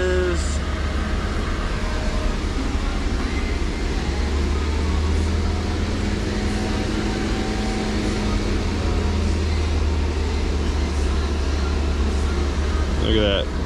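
A VW Beetle 2.5-litre five-cylinder engine with a lean fault, held at 2000 RPM, gives a steady, even drone and hum that runs unbroken throughout, close by, with talk over it.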